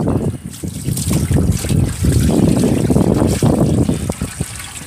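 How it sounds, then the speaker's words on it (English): Pieces of freshly processed rabbit meat, back straps and tenderloin, being sloshed and rinsed in a bucket of water outdoors, a close, continuous splashing and trickling with uneven surges and no talk. "We just stick them in here and wash them off."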